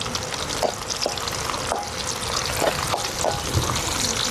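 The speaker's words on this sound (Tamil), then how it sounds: "வெங்காயம் நல்லா பொன்னிறமாக ஆகணும்." Sliced onions frying steadily in hot oil for a Tamil-style dried fish curry, a continuous close sizzle with a few light stirring clicks and scrapes, no talking.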